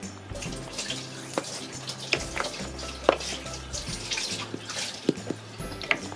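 A kitchen tap runs while dishes are washed up, giving a steady close splash of water with scattered clinks and knocks of crockery against the sink.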